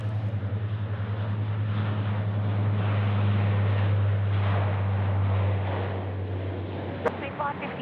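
Propeller aircraft 223 Delta departs Sydney Airport for Wagga, a loud sustained droning engine with steady low pulsing tones holding near and strong before easing slightly, with people talking over it.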